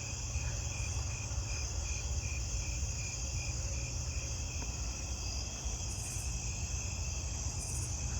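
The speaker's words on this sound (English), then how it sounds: "I'm hearing another two-spotted." Two-spotted tree cricket trills continuously outdoors at night, blended into a dense chorus of other crickets and katydids, steady and unbroken with no speech.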